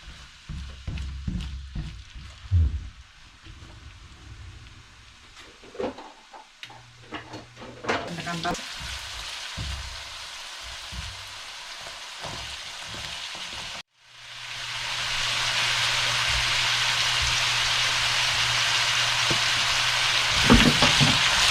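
Potatoes go into hot oil in a pan: soft clatter and stirring first, then a loud, steady sizzle surges up and keeps going close by.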